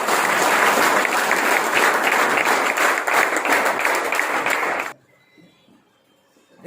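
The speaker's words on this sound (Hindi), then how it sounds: "चलिए एक बार आप सभी के लिए शानदार तालियां हो जाएं।" Loud, dense applause from a large audience at an RCM business meeting, sustained for about five seconds before cutting off abruptly into near silence.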